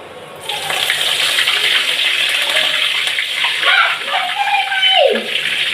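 Curry leaves drop into hot oil in a pan and burst into a loud, hissing spatter that carries on steadily for several seconds, close to the listener. A voice speaks briefly near the end.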